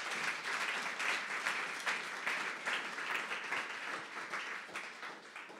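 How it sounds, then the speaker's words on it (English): Applause from a conference keynote audience rolls on steadily, a moderately loud field of many clapping hands that gradually thins toward the end, with no talking. "So a quick round of applause for my co-founders."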